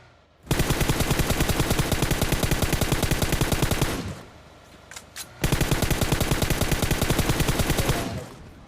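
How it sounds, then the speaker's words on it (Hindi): Two long bursts of rapid automatic gunfire from a moving vehicle in a video game, loud and close, separated by a brief pause with a couple of softer shots. "चलती गाड़ी से गोली चलाने की पूरी तैयारी है अभी"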